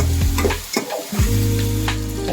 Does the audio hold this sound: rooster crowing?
no